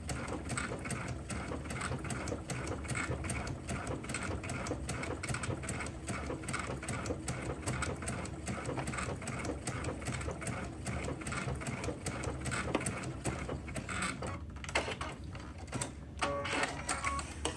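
A sewing machine with a digital dual feed walking foot and open toe foot stitches binding onto a quilt, running as a steady, dense mechanical whir throughout at close range.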